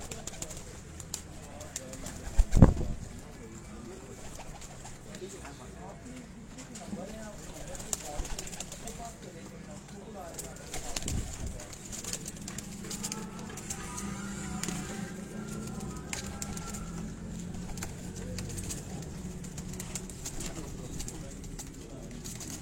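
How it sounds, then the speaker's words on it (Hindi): Jailer breeder pigeons coo softly on a rooftop loft in Kasur, low repeated calls under someone talking nearby, with a few sharp knocks and occasional wing flutter. "ये जी जेलर कबूतर है जनाब उस्ताद ताहिर भट्टी साहब का मेन ब्रीडर कबूतर है"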